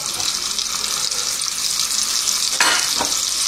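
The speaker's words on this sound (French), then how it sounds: "on fait donc chauffer le beurre, on fait snacker les Saint-Jacques" Scallops sear in hot butter in a pan with a loud, continuous sizzle and crackle, plus a brief burst of clatter near the end.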